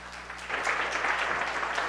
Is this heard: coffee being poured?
no